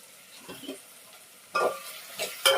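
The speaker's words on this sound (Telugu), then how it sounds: "టమాటో కూడా వేసుకొని బాగా కలిపేసుకున్నాము. చూడండి, మంచిగా వేగుతున్నాయి." Tomatoes frying in a pan for vegetable pasta, stirred with a utensil: a soft sizzle with several short scraping strokes, close, the last few louder, and no talking.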